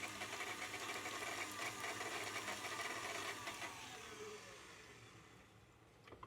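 An electric mixer beats pecan pie filling of eggs, sugar, butter, corn syrup and vanilla extract, giving a steady, fairly loud motor whir with rattling that runs throughout and eases slightly toward the end.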